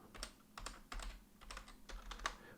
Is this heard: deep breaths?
no